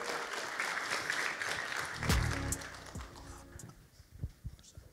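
Audience applause at a talk on pioneering the use of AI, a crowd clapping steadily that swells briefly with a low voice or cheer and then tapers off into scattered claps.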